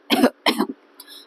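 Two deliberate coughs from a person demonstrating a controlled cough for clearing secretions in physiotherapy, close and clear with a short pause between them, followed by a faint breathy trailing sound.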